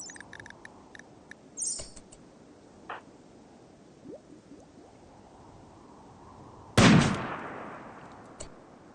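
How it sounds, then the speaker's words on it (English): A single loud gunshot from a sniper-style video game fires near the end, a sharp blast with a short decaying tail, preceded by faint clicks and quiet game ambience. "She aims for another shot."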